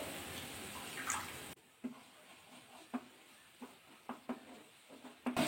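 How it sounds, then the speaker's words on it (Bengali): Water poured into spice masala in a pan while cooking a Bengali pabda fish recipe: a brief pouring splash, then quiet with scattered soft stirring scrapes and light sizzles. "এবার এর মধ্যে জল অ্যাড করে দেবো অল্প করে"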